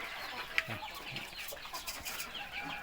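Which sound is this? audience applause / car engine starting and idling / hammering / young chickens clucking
young chickens clucking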